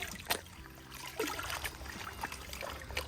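Water sloshes and trickles in a gold pan shaken at a riverside, short splashy surges and drips repeating close by over a steady outdoor background.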